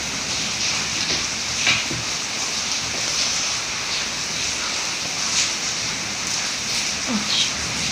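Steady rain falls outside, a dense, even hiss that continues without pause for the whole stretch, with a few faint knocks scattered through it.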